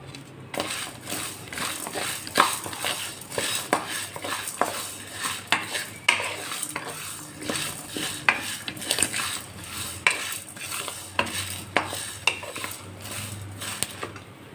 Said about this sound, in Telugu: కొబ్బరి కరివేపాకు చింతపండు ఇవి కూడా వేసేసి ఫ్రై చేసుకుందాం